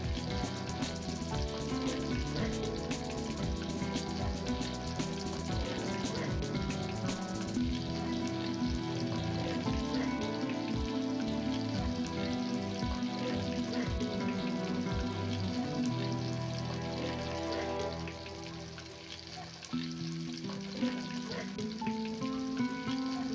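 Chicken wings deep-fry in hot oil, a dense, continuous crackling sizzle that stays loud and close throughout, dipping briefly near the end, with no one talking.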